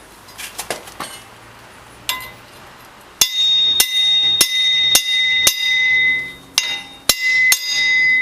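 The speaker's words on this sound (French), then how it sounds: "Et voilà, en 3 coups de marteau." Sharp metallic hammer strikes on a tool driven against the oil seal of a Suzuki Jimny rear wheel bearing, several loud ringing blows spaced about a second apart after some quieter knocks.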